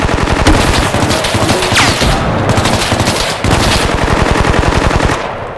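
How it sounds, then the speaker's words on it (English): Rapid automatic gunfire fills a battle in the video game Bellum, loud, close bursts of machine-gun fire running almost without pause, briefly thinning before fading at the end. "Hey, Alpha, slow down your rate of fire."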